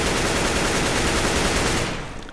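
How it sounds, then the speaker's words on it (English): Rapid automatic gunfire from running and shooting in the video game Counter-Strike: a dense, continuous, loud burst of shots that cuts off near the end, with no voices. "So watch what happens when I run and shoot"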